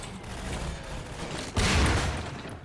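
Turret gunfire in the Half-Life 2 video game: a sustained burst of rapid automatic shots erupts partway through, loud and dense over a steady background of game ambience, with no talk.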